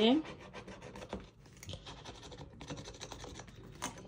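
A small scraper tool rubs and scratches across scratch-off boxes on a budget envelope card in short close strokes, a quiet rasping patter without talk.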